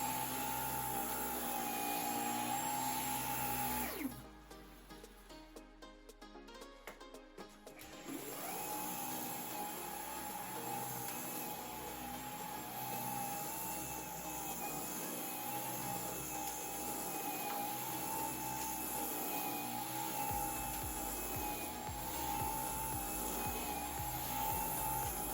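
A Dyson V15 Detect cordless vacuum cleaner runs with a steady, high whine close by, cutting out briefly for a few seconds near the start before resuming and droning on evenly.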